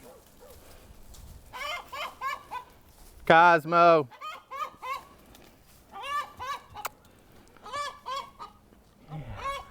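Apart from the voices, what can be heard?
squawking chicken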